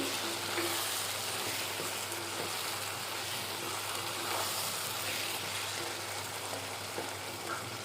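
Spices frying in oil in a pan for an Andhra-style egg and broad bean (chikkudukaya) curry, giving a steady, close, even sizzle and hiss that runs unbroken throughout.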